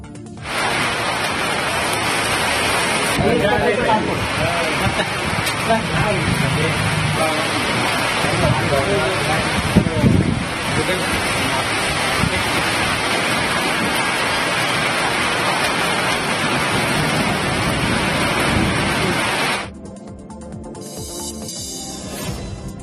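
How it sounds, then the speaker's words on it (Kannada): Heavy rain pours in a thunderstorm with strong wind in Haveri district, a dense, loud, steady roar for about twenty seconds before it suddenly drops to a quieter hiss. "ಹಾವೇರಿ ಜಿಲ್ಲೆಯ ಹಲವೆಡೆಗಳಲ್ಲಿ ಗುಡುಗು, ಸಿಡಿಲು, ಬಿರುಗಾಳಿ ಸಮೇತ ಮಳೆಯಾಗಿದೆ"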